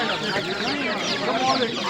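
Chicks, including dyed colourful ones, and chickens cheep and cluck busily at a bustling poultry bazaar, a dense chorus of high peeps close by with people talking over it.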